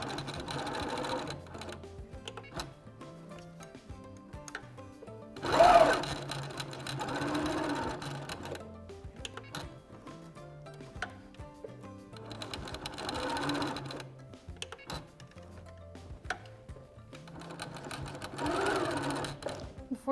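Sewing machine stitching an eco chic keychain wallet, bursts of rapid mechanical stitching separated by pauses, steady and close, with someone talking throughout.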